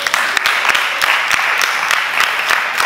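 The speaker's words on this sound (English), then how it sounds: "Clap for him." Audience clapping at a motivational talk on moving from vision to reality, a steady dense burst of many hands with sharp individual claps standing out, fairly loud and close, with no talk over it.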